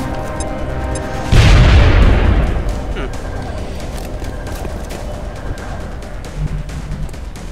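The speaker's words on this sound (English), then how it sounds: "Let's see if a frag grenade will do." A frag grenade detonates in the video game XCOM, a loud sudden boom that rolls off over a couple of seconds, followed by quieter in-game clatter and ambience.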